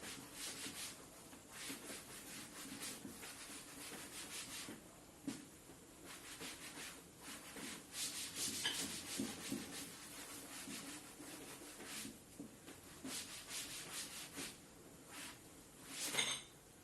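A board in a physics classroom is rubbed to erase it, giving repeated scratchy rubbing strokes in irregular bursts, faint and close, with no speech.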